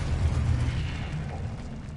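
Confringo blasting curse going off in a Harry Potter video game: a sustained, rumbling low boom with mechanical crackle that stays loud across the whole moment, with no voices over it.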